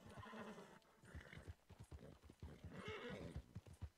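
Horse in the video game Red Dead Redemption 2 clip-clops along at a steady, fairly close rhythm, with a whinny rising over the hoofbeats partway through and no talking.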